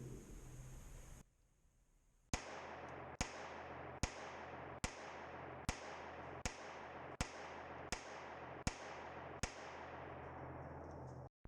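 A Ruger LCP II .22LR pistol empties a magazine at about six yards: nine crisp, close shots at a steady, roughly once-per-second pace following a short quiet gap, with faint background hiss between reports.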